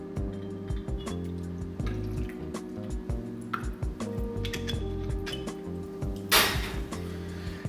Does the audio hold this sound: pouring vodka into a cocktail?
yes